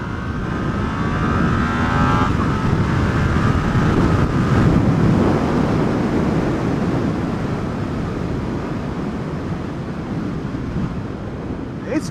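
A Yamaha XSR700 motorcycle on a test ride rumbles along under heavy wind buffeting, engine drone steady and close with a faint rising tone early on.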